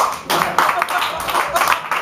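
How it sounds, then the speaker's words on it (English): A live studio audience at a comedy taping claps, a dense, steady burst of applause lasting about two seconds with brief dips, mixed with crowd voices. "Clap."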